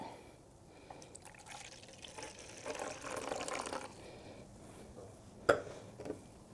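Wine pouring into a glass for a standard five-ounce serving, a steady liquid trickle that swells and fades over several seconds, with a soft clink or drip near the end.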